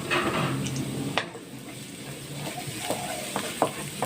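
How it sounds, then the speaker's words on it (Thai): Pumpkin shoots are stir-fried with egg in oil in a pan, with no pork added. A close, continuous sizzle is broken by the clatter of a utensil scraping and tapping the pan. "นี่ค่ะคั่วยอดปักทอง ใส่ไข่นะคะ"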